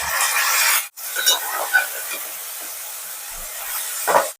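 Chopped tomato pieces sizzle and hiss in a hot pan while being stirred, a steady close frying sound with a few scraping knocks and a brief break near the start, for an egg pulao.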